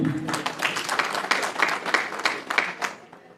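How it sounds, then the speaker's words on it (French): Audience applause after a guest is introduced at a Guinean rural development association event, a steady burst of clapping from a seated crowd that fades out near the end. "que je vous prie d'applaudir."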